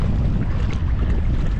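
Coastal wind on Camiguin Island buffets the microphone outdoors near a seaside cemetery, a constant low roaring rumble without pauses and no voices.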